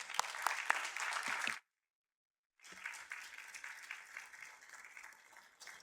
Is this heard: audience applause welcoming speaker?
yes